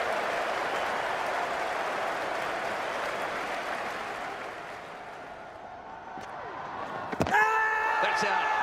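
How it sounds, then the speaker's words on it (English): A cricket crowd at the 2005 Ashes first Test roars for a boundary, a broad sustained cheer that gradually subsides, followed by a sharp knock and a brief ringing tone. "Listen to the cheer."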